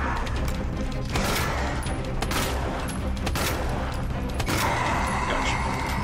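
Rapid, dense gunfire from a fight with a licker in the Resident Evil 2 remake, loud and nearly continuous, with several sharp shots standing out from the clatter.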